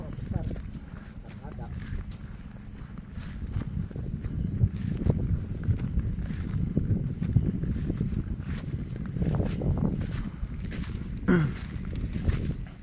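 Strong wind gusting outdoors around a hut, a continuous low buffeting roar with microphone wind noise that swells and eases, close and fairly loud, with occasional rustling and knocks.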